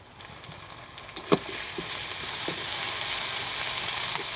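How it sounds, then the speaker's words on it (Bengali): Ginger-garlic paste with turmeric and chili powder fries in hot oil, a steady crackling sizzle with a few sharp spatters and stirring taps, moderately close and without speech. "এই সকল মশলা দিয়ে আমরা সুন্দরভাবে ভেজে নেব এবং লাল হওয়া পর্যন্ত ভাজবো"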